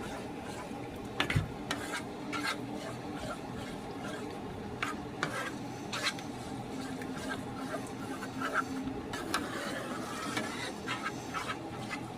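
Diced Roma tomatoes being stirred into spaghetti sauce, with scattered soft clicks and scrapes of a utensil against the pot over a low simmering background, no talking.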